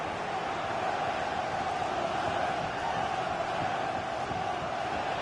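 Steady roar of a large football stadium crowd in a PlayStation Premier League match, a continuous broadband wash of cheering and chanting with no clear peaks, held at an even level throughout.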